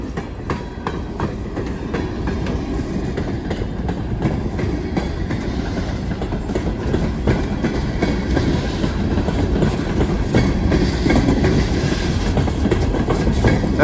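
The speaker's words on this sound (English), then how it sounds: "Those spitter valves, that ticking you hear, at spitting sound, that blows moisture out of the lines." Long freight train hauled by four locomotives, two leading and two distributed mid-train, rolls steadily past close by with continuous rail rumble and clickety-clack, while spitter valves blowing moisture from the air lines add faint ticking spits throughout.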